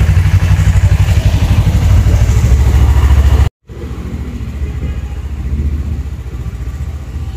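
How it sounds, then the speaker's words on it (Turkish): A Suzuki Inazuma GW250 motorcycle engine with a leaking exhaust gasket runs loud and steady with a rough rumbling pulse, cuts out briefly, then resumes at a lower, even idle. "motorun rölantinde herhangi bir dengesizlik var mı diye de gayet sabit stabil çalışıyor"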